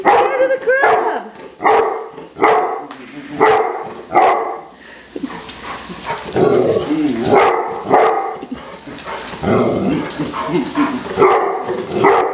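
A dog on a beach barks repeatedly at a crab, sharp close yaps and bow-wows in quick bursts, with a person talking in between.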